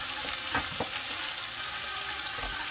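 Beef and mini vegetables sautéing in a pan, a steady close sizzle and frying hiss with a few soft stirring knocks, no voices.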